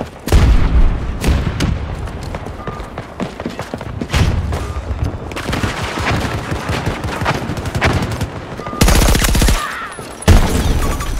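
Grenade explosions and heavy gunfire tear through a Battlefield 2042 firefight. Loud booming blasts and rapid volleys come close and dominant, broken by short lulls, then a sharp burst of noise near the end, with no voices.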